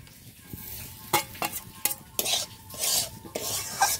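Chopped chillies are stirred into potato and semolina frying in a pan, with a soft sizzle under several distinct scraping stirs and utensil clinks.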